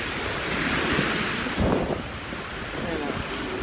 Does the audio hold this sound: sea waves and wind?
yes